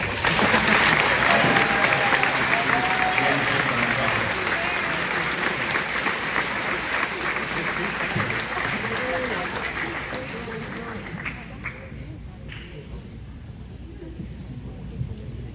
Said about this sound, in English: let's go and give our senior class a round of applause